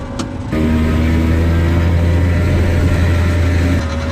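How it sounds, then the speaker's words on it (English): Piaggio Ape three-wheeler starting up and running, a small engine settling into a steady buzzing drone close by after a brief click, then cutting off near the end; no talking. "this Ape is exciting to drive"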